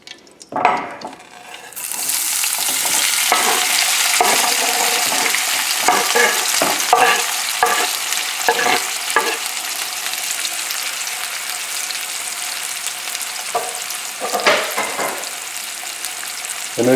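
Onions and garlic sautéing in a pan for salmon cooked in oregano oil, a close, steady sizzle that starts abruptly as they hit the hot oil, with intermittent scraping and stirring clicks throughout.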